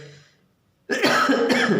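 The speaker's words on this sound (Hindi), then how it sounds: "सॉरी मुझे खांसी काफ़ी हो रही है" A single harsh, loud cough bursts out after a brief quiet moment, close to the microphone.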